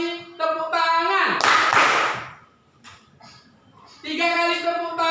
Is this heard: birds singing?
no